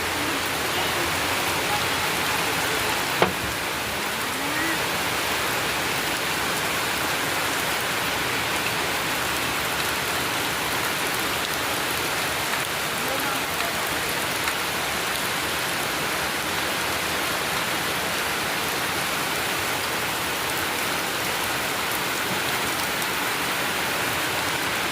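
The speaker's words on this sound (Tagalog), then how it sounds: "Lakas ng ulan mga kababayan" Heavy rain pours steadily and loudly for the whole stretch, a dense unbroken hiss with no let-up and no voices.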